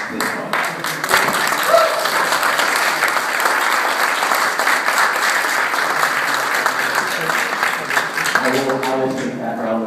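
A lecture audience breaks into a sustained round of applause, many hands clapping together in a full, even roar that holds for several seconds before a voice begins speaking over the fading tail.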